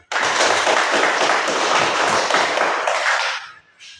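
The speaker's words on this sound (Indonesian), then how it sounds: "Kalau semua, kita berikan tepuk tangan." Group of children clapping hands in applause, a dense burst of many claps that starts abruptly and fades out near the end.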